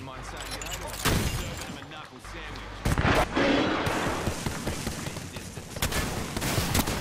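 Bursts of R-99 submachine gun fire from Apex Legends crackle through a busy mix of game noise and voices, with louder volleys near the middle and end.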